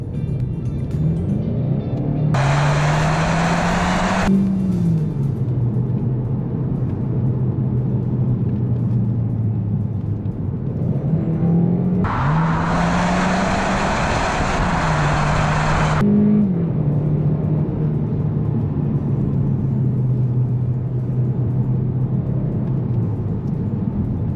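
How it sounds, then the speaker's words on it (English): Engine of a 2018 VW Golf GTE plug-in hybrid with its 1.4 TSI, 204 hp, in GT mode, a steady loud rumble heard from inside with two rising, revving surges of engine roar, no talking. "you can just press GT mode and the engine will roar into life"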